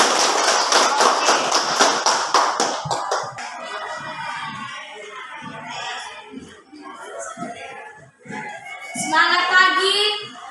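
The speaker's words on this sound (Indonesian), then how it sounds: "Tepuk tangan untuk kelompok 1." Applause in a classroom as a group of students comes to the front: a burst of clapping from many hands at the start, then scattered taps and children's voices, with another short round of clapping near the end.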